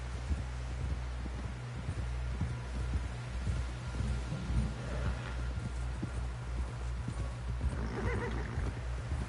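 Horse hooves clip-clop steadily in Red Dead Redemption 2, a continuous rhythmic gait close by, with a neigh or whinny among the steps and a low game-engine hum underneath throughout.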